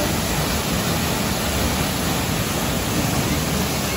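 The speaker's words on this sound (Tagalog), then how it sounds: "Yun yung itsura sa Mandayo Waterfalls." Rushing water of Mandayao Waterfalls in La Castellana, Negros Occidental, a steady broadband roar that stays loud and continuous throughout, with no voices.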